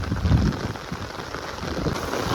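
Heavy rain pours down in a village, a steady broadband wash of drops with a low rumbling undertone, close and continuous, with no voices.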